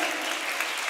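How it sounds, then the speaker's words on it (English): Dense applause from a seated audience honouring special guests at a school Model UN event, steady broadband clapping filling the whole moment with no pauses. "Give them a big clap."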